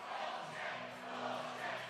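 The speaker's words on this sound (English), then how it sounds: "the crowd is yet again displeased with this call" Ice hockey crowd at a men's college tournament semifinal (UW-Stevens Point vs. UW-Superior) voicing displeasure at a referee's call: a steady, broad roar of many voices filling the arena, sustained throughout with brief swells.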